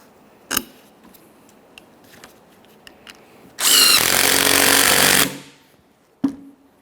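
A power tool with a socket spins the rear upper control arm bolts on a 2007-2017 Jeep Patriot, a harsh, loud burst of rattling lasting under two seconds, framed by a few sharp metallic clanks from the wrench and socket.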